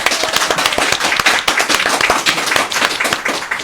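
A studio audience at the close of a podcast episode claps close and loud, individual sharp hand claps standing out in a lively, uneven burst.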